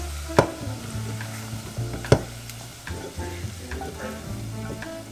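Bacon and calabresa sausage fry in a pan with a steady sizzle, broken by a couple of sharp pops and the scrape of stirring, close and loud with no talking.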